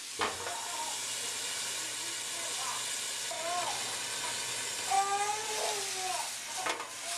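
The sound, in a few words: chicken cooking with Marsala wine in covered pan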